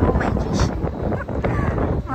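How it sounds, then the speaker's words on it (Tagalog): Strong wind buffets an outdoor microphone with a continuous, loud rumbling roar, steady throughout with slight gusting and no clear voices. "Mahangin siya."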